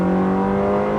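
A Ferrari 360 V8 engine with a manual gearbox revving, a loud, steady, deep mechanical drone with rich harmonic tones, close and sustained throughout.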